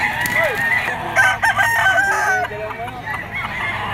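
A white-legged pumpkin stag gamecock crows at a pet market, one drawn-out, wavering call heard close and clear over a low background murmur.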